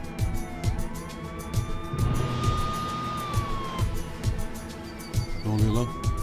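A police car siren wails with rising and falling tones over a background of music and traffic, clearly audible amid a tense scene, with voices present.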